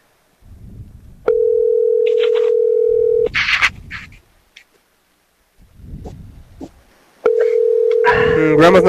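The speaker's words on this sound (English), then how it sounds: "Grandma's not answering the phone." A telephone call goes unanswered. A steady electronic ringback tone sounds in two long bursts, with quiet voices and room noise between them and a voice overlapping the second tone.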